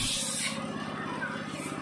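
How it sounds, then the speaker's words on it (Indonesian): Cleaner is sprayed through the fuel line filter of a Yamaha Mio M3 scooter in a motorcycle repair shop: a close, steady hiss of spray lasting under two seconds, with a low engine rumble underneath. "dari saringan kita semprotin, kita bersihkan sampai bersih"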